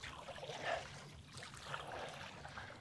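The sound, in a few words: kayak paddle stroking through water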